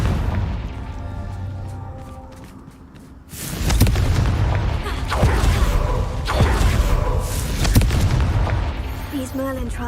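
A Confringo spell explodes in Hogwarts Legacy, a sudden loud boom partway in, followed by rolling blasts and crackling impacts over a deep rumble, with speech amid the noise.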